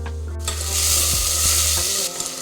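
Vegetables including potato, carrot, beans, tomato and ash gourd frying in a little oil, with a loud, steady sizzle over a low hum and a few soft clatters, close up.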